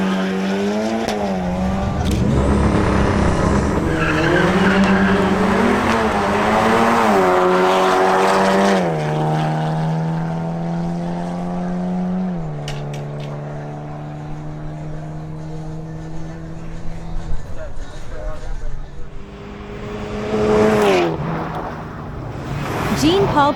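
An Audi S3 makes a racing run, its engine climbing through several rising revs with gear-change dips, then fading into the distance before a brief burst of tire noise. Commentary can be heard over parts of it.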